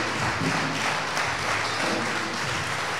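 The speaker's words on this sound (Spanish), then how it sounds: "Vamos a darle un aplauso al Señor" Applause from a church congregation during a sermon, steady broadband clapping filling the whole stretch, fairly close and dense, with no speech over it.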